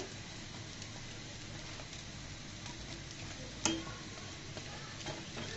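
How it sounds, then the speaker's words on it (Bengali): Prawn pakoras fry in hot oil with a quiet, continuous sizzle and crackle. A single sharp tap rings out partway through, and no one speaks. "আমার কিন্তু এই পাকোড়াগুলো ভাজা হয়ে যাচ্ছে"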